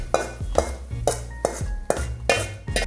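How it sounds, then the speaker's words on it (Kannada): Masala being fried in oil in a pan, with a utensil scraping and stirring in a steady rhythm of about six strokes over a constant low sizzle. "ಈಗ ಎಣ್ಣೆ ಹಾಕೊಂಡು ಚಂದಾಗಿ ಫ್ರೈ ಮಾಡ್ಕೊತೀವಿ."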